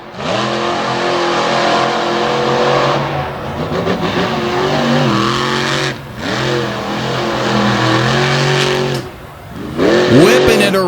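A race car engine revs and roars around a dirt track in an off-road racing event, loud and close, surging up and down with brief drops as the driver works the car sideways, with commentary over it.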